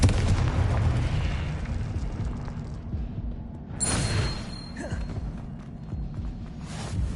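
Confringo blasting-spell explosions in the Hogwarts Legacy video game: loud, booming bursts, one at the start and another a few seconds later, each fading into a rumbling tail.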